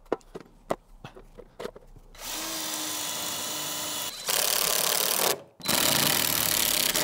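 A power drill drives screws into vertical wooden battens while cladding a workshop: a few light taps and clicks first, then three sustained, loud whirring bursts with short pauses between them.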